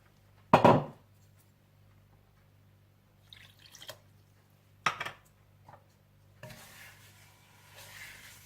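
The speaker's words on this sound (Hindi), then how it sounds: "और साथ ही इसमें चीनी और हाफ कप पानी डालकर मिला लीजिएगा ताकि चीनी मेल्ट हो जाए" Sugar and half a cup of water go into a cooking pot for mutanjan syrup, heard as a sharp pour and splash, then scattered metallic scrapes and clinks of stirring and a soft sizzle near the end, with no talk.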